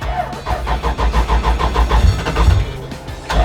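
A 2JZ-swapped NASCAR race car engine cranks in a rapid, even starter rhythm up close, loud and rough, with uneven low chugging as it tries to catch near the end.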